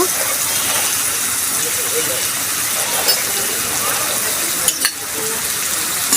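Spices for ghugni are stir-fried in a pan, a continuous loud sizzling hiss with occasional scrapes of stirring and no talk.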